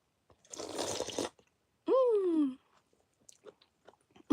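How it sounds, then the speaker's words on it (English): Noodles being slurped and chewed from a bowl, heard as a burst of wet, noisy slurping followed by a short rising-then-falling squeaky sound, with faint small clicks after. "Let's take a slurp of these noodles"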